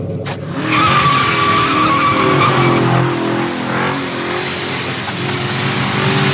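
A hot rod with a 1,000 hp engine drives hard on a track, its loud roaring engine with tire squeal and skidding, sustained and close throughout.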